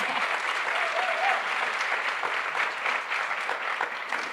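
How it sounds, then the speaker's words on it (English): Audience applause at a conference on place-based partnerships, a steady, dense wash of many hands clapping at moderate volume, sustained evenly with no voices. "please give them a round of applause."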